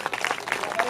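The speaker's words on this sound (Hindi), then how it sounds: "ताली बजा करके स्वागत," Applause welcoming someone at a Bhagwat Katha religious gathering, a dense steady wash of many hands clapping throughout, fairly loud and close.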